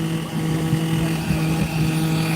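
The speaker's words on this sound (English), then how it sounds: "So he's revving his engine." A motocross scrambling bike at a race start holds a steady, loud engine drone with a constant low hum and faint rise-and-fall revs, with no voices.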